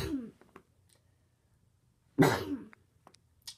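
One person gives a harsh, close cough with a throat-clearing quality, preceded by a shorter one, then a faint click near the end amid otherwise near silence.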